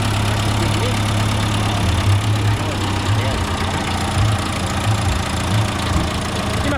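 A 1913 Fiat car engine running at a loud, steady idle with a low rhythmic chug and mechanical clatter close by, a voice speaking over it.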